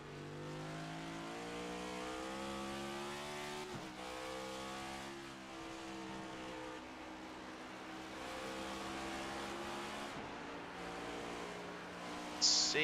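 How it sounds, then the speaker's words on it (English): A race car engine in a Watkins Glen racing video game hums steadily as the driver feathers the throttle through the S's at about 175 mph. The engine note is fairly quiet and holds even, with small dips and rises in pitch. "he's just faintly hitting the throttle on the way up through the S's as he works his way over 175 miles an hour"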